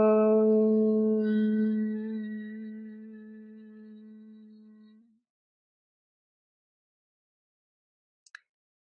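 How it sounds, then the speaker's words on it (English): A single sustained chanted Om syllable, steady and resonant, held for about five seconds and fading out, followed by silence and a faint brief click. "So out of the sound of Om, all other sounds could be produced."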